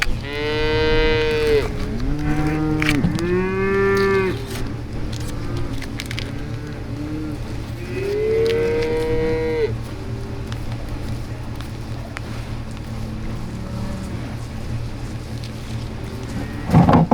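Farm cattle that are eager for fresh salt moo loudly and close by, in several long calls spread over the stretch, with a low steady hum underneath.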